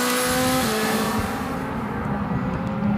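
A BMW DTM race car engine drones loud and sustained on track at Valencia, a steady rasping howl that shifts pitch slightly as it passes, heard alone without voices.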